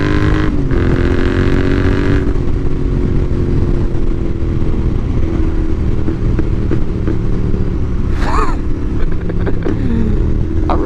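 Royal Enfield Interceptor 650 motorcycle exhaust under power on a country road, a loud continuous engine roar with steady rumble and shifting pitch, heavy wind noise throughout.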